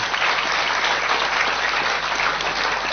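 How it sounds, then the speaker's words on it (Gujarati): An audience at a public gathering claps steadily, a dense sustained burst of applause from many hands, fairly loud and continuous with no one speaking. "આપણે તાળીઓ વગાડવી પડે આ લોકોને."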